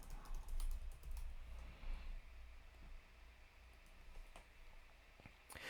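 Keys tapped on a phone or computer while entering a name in the Otherhalf AI app, a quiet, irregular run of light clicks over faint background hiss with no talking.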